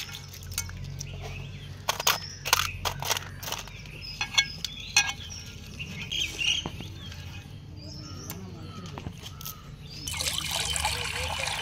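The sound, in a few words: washing mud crabs in water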